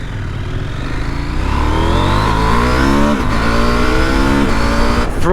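A KTM 790 motorcycle engine revving hard on the throttle, loud and close, its pitch rising and dropping through repeated throttle blips and shifts over several seconds.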